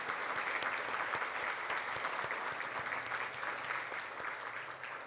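Sustained applause from a church congregation, dense steady clapping that fades slightly toward the end.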